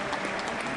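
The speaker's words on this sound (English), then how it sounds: "join me and give our panel here a round of applause" An audience claps for a panel at the close of a crypto derivatives discussion event, a short, dense and fairly loud burst of applause with no talking.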